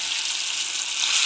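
Marinated chicken, coated with lemon juice, fries in a pan with a dense, steady, close sizzle that holds evenly throughout.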